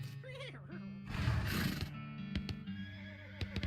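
A horse in the video game West of Loathing gives a loud, close whinny followed by a noisy snort and stamping clip-clop sounds, with a few sharp percussive knocks after.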